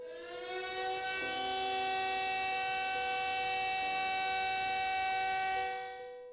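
A coal mine siren sounding the death of a miner in northern France's coalfield: a long, steady, harmonic wail that holds loud for about six seconds with slight pitch shifts, then fades at the end, with no voices.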